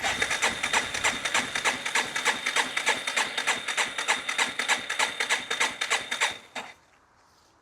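A small dirt bike engine runs close by with a rapid, steady pulsing beat, then cuts off abruptly near the end and leaves near silence.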